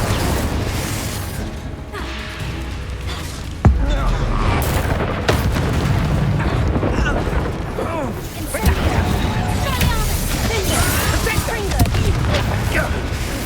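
Confringo and Incendio spell explosions in the Hogwarts Legacy video game: repeated booming blasts and crackling fire bursts amid dense combat noise, with voices shouting between the impacts.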